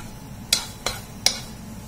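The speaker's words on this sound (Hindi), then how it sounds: "अब हम इसमें थोड़ा सा एकदम फाइनली चॉप्ड गार्लिक डाल लेंगे 1 टीस्पून के करीब। मैं इसको अच्छे से सॉटे कर लेंगे।" Finely chopped garlic sautéing in hot oil while making Veg Manchow soup, a steady soft sizzle broken by three sharp clinks of a spoon against the pan, stirred at an even pace.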